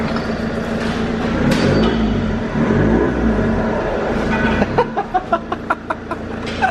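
A diesel car fitted with a new exhaust line revs hard for several seconds with a deep, loud rumble. It then settles into a series of rhythmic exhaust pulses and pops near the tailpipe.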